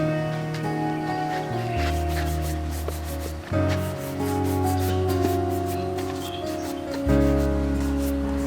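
A cobbler polishes shoes with steady rubbing strokes, close and fairly loud, under sustained tonal background sound that shifts pitch a few times.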